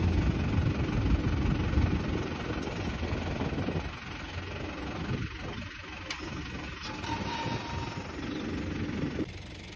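A tractor engine rumbles at a steady low idle, loud at first and then a little quieter and more distant, with faint scattered sounds over it and no talk.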